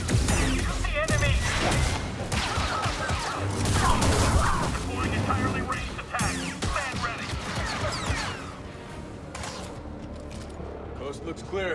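Blaster gunfire and explosions crash through a firefight against enemies on Coruscant in Star Wars Jedi: Survivor, dense bursts of shots, booms and whooshes with voices speaking amid the combat.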